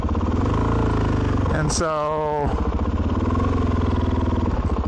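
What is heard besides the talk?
Suzuki DRZ 400 motorcycle engine idling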